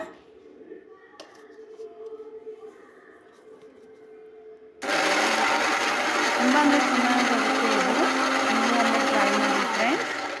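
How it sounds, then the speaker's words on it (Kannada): A mixer grinder roars to life partway through, grinding carrot and cucumber chutney with a loud, steady whirring close up, after a quieter stretch of handling sounds. "ಈಗ ಮಿಕ್ಸರ್ ಮಿಕ್ಸ್ ಮಾಡ್ಕೊ ಮಿಕ್ಸರ್ಗೆ ಹಾಕ್ಕೊಂಡು ನಾವು ಗ್ರ್ಯಾಂಡ್ ಮಾಡ್ಕೊಂಡು"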